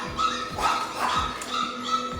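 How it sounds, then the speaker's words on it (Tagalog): Dogs at a farm yard barking in quick short yaps and whines, several overlapping barks spread across the moment, fairly close and loud. "Grabe naman ang ingay ng mga tutoy mo."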